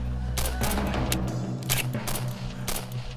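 Bursts of automatic gunfire crackle in a firefight, several sharp volleys of shots in quick succession over a low rumbling background, loud and close.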